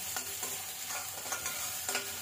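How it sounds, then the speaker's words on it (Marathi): Ground masala paste sizzles in hot oil tempering while being stirred in a pan for a Konkani-style jackfruit seed curry, a steady close frying hiss with soft rhythmic scraping strokes and no talking. "वाटण फोडणीमध्ये व्यवस्थित परतून घ्यायचं"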